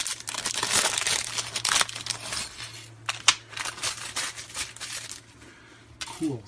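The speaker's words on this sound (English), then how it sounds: "Let's open up the door and take a peek at what is hidden inside." A cardboard door on a Lego Star Wars advent calendar is pried open close up, with dense crinkling, tearing and rustling in quick bursts and a small sharp click partway through.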